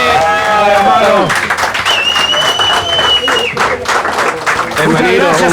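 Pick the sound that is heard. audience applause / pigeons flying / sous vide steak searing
audience applause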